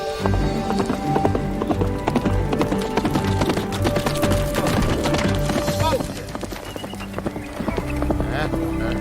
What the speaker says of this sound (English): Hey, Will, that girl sure knew what she was doing when she bought that big black horse